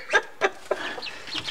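A backyard chicken, one named Peeper, clucks close by in three sharp bursts followed by softer chatter, with no one talking.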